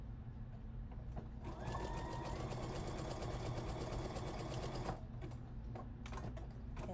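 A sewing machine runs a zigzag stitch across elastic sandwiched in fabric, whirring steadily and close for several seconds after a brief start, then stopping with a few faint handling clicks.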